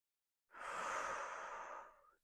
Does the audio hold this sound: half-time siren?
no